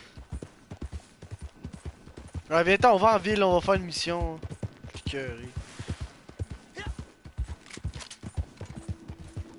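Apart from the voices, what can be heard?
horse hooves clip-clopping in a video game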